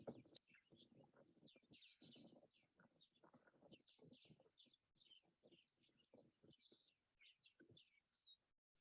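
Faint, distant bird chirps and tweets repeat in short scattered bursts during a bird feeding its young, heard quietly with no one talking.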